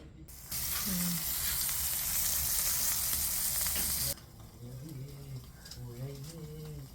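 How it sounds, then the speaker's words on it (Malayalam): Loud, steady sizzling of food frying in hot oil for several seconds, then it drops off abruptly, leaving quieter background chatter and voices. "ഇങ്ങനത്തെ പൊടിയിലിട്ടിട്ട് പൊരിക്കാനാണ് ഇഷ്ടം"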